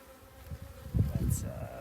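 Honey bees buzzing around fresh hive splits as queens are introduced, a close, low hum that swells louder midway through the short stretch.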